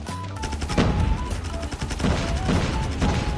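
A PP19 Bizon and other weapons fire rapid bursts in Call of Duty Mobile, with dense overlapping gunshots continuing throughout at close range.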